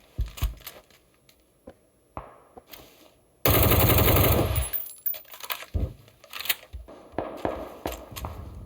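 Video game gunfire in a busy battle area: a long, loud burst of rapid automatic fire in the middle, with scattered single shots and bursts before and after, some close and some further off, and no talking.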